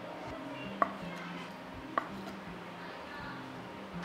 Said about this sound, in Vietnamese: Bây giờ chúng ta sẽ thái đậu phụ nhá.